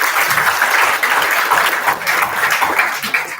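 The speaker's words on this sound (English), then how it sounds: "give a huge round of applause" An audience at a conference applauds in a dense, steady round of clapping that holds strong throughout, with a voice faintly over it.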